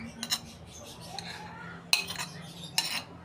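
Sweet potato leaf salad being tossed with tomato, onion and salted egg, with utensils clinking against a dish in a few sharp bursts over low background noise.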